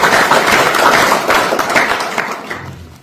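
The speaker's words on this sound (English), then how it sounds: "Let's give it a round of applause for Jason and Javen." A room full of people applauds for candidates at a Republican state representative candidate night. The dense clapping is loud and close at first, then gradually thins and fades.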